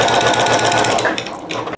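A sewing machine chain-stitches rag quilt squares on the diagonal, its steady rapid needle rhythm running close and loud throughout with a brief slowdown near the end.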